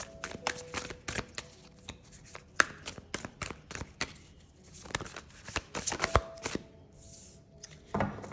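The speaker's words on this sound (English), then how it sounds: "Make sure they're really shuffled." Rapid riffling and snapping of tarot cards being shuffled, repeated in quick bursts with soft clicks between, close and fairly loud, no talking.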